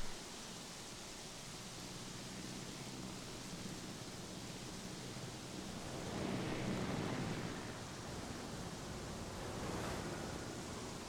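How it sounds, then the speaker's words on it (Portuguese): Steady rain-like roar of a thunderstorm in the Jurassic World video game, with low rolling thunder swelling twice in the middle and near the end, faint and continuous without talk. "Mais uma tempestade rolando."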